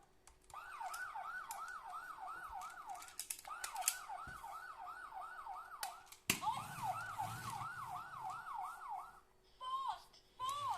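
A toy fire truck's electronic siren wails in rapid rising-and-falling sweeps, close and steady, briefly stopping and restarting, with clicks and handling noise between.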